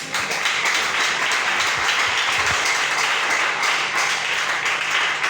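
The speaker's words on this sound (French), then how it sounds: "Si tu veux acclamer, acclame bien." Church congregation applauding, a dense, continuous wash of clapping that holds steady throughout, with a faint low hum beneath.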